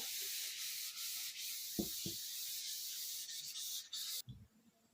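A continuous soft rubbing and scrubbing of an eraser across a classroom board during a geometry lesson, steady and close, with a couple of light knocks before it stops.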